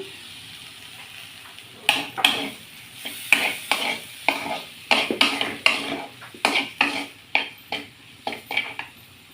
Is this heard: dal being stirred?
yes